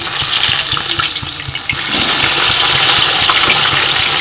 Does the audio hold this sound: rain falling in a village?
no